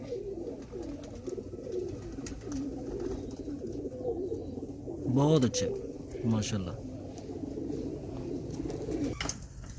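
Breeder pigeons coo in a couple of clear, close bursts midway, with fainter coos around them and someone speaking briefly.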